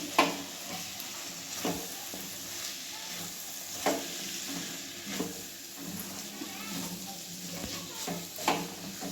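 Cabbage sabzi with crushed peanuts being stirred in a pan, a steady soft sizzle broken by periodic scraping strokes of the spoon, close and moderate in level, no voices.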